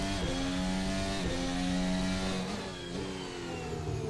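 An F1 car engine in the F1 24 racing game on the Qatar circuit, revving up through repeated rising gear pulls with brief shift dips, steady and loud throughout with no talking.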